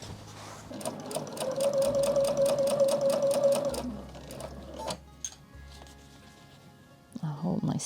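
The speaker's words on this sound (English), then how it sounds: "I'm going to stop my needle in the down position and let the walking foot do the work." Sewing machine fitted with a walking foot stitching through quilt-as-you-go rows of a scrap quilt, a steady rapid mechanical whir for several seconds before stopping, with someone talking over and after it.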